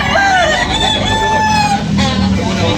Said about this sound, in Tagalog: Gwapong manok.